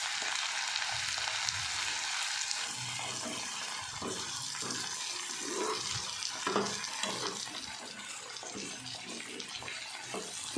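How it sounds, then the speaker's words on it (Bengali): Onion stalks sizzle steadily in mustard oil and ghee, a dense, even hiss running throughout with soft low bumps and occasional stirring clatter close by. "তো দেখুন পেঁয়াজ কলিগুলো ভাজি।"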